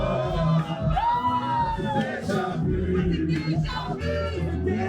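A concert crowd shouting and cheering loudly, with whoops and raised voices overlapping in a dense, continuous roar.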